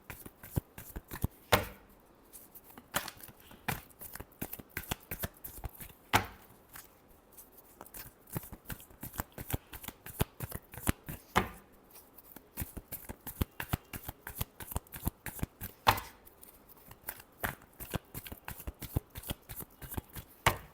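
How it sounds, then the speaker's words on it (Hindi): Tarot cards shuffled by hand in a steady, dense riffle of crisp papery flicks and slaps, close and clear with a few brief pauses and no talking. "Last shuffle."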